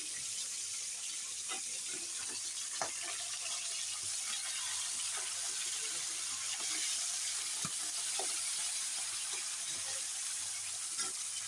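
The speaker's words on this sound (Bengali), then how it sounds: "মাথাগুলো এখন ভাজা হয়ে গেছে মাছের" Rohu fish heads fry in hot oil with a soft, steady sizzle, faint and continuous, with occasional scrapes and taps of a spatula turning them.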